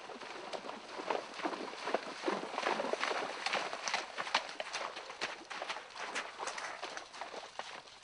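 A rented horse's hooves clip-clop in a steady walking rhythm on the way to Last Chance Creek in the Yukon, sounding close and fairly clear over soft outdoor background noise.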